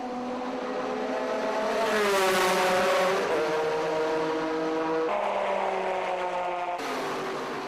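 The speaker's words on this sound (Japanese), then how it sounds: "T2M モータースポーツのポルシェも順調に周回を重ねる" A Porsche race car of the T2M Motorsport team laps the circuit at the 2005 Le Mans 24 Hours, its loud engine note rising and falling as it passes close by, continuous and without voices.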